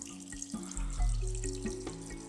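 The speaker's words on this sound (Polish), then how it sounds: "Leje się woda." A small paludarium pump pushes water into a little pool, giving a steady, close trickling and splashing flow with a low rumble that keeps going through the whole stretch, with no voices.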